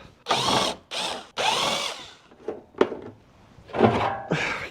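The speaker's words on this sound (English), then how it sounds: "Let's get a power driver on that." A power driver works on the fuel pump of an all-in-one diesel heater in several short, close bursts separated by brief pauses, with no talking.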